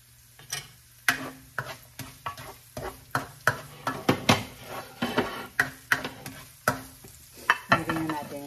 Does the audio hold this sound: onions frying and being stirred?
yes